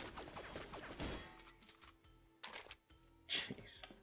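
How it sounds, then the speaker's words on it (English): Assault rifle fire in Goldeneye Source rattles out as a rapid burst for about a second, then gives way to scattered sharp cracks and clatter separated by quieter gaps. "Oh, assault rifle"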